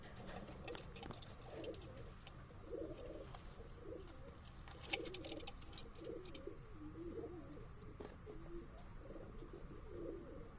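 Madrasi high-flying pigeons cooing in soft repeated bursts throughout, close and quiet, with faint chirps and light rustling in the background.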